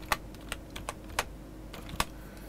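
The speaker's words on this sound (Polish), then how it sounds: "Wpisujemy background." Typing on a computer keyboard: a short, sparse series of crisp individual key taps with irregular spacing, close and fairly quiet, with no voices.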